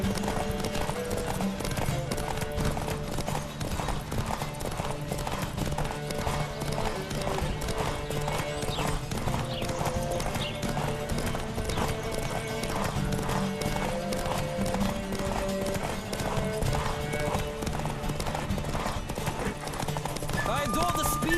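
Galloping hooves pound rapidly and continuously through a horse race in The Witcher 3, close and loud, layered over sustained orchestral game music with occasional snorts and neighs.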